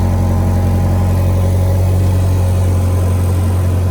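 A Fox-body Ford Mustang engine idles close by, its exhaust giving a steady, low, throbbing rumble that holds constant throughout.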